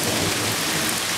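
Heavy rain during a thunderstorm, falling as a steady dense hiss with a low rumble underneath and no voices.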